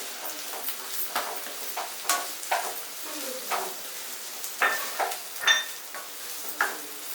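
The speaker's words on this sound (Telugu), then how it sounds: "ఇప్పుడు సన్నగా తరిగిన ఉల్లిపాయ ముక్కలు కూడా వేసి మరి కాసేపు వేయించుకుందాం." Finely chopped onions, green chillies and curry leaves fry in hot oil for a potato and fenugreek curry, giving a gentle sizzle punctuated by repeated stirring scrapes and light clinks of a spoon on the pan.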